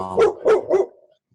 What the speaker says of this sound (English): That's my pit bull, Boo Boo.